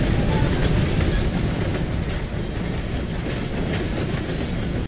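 A train rolls past in the video game Red Dead Redemption 2, a loud, continuous rumble with clattering wheels on the tracks that stays close and steady the whole time, with no talking.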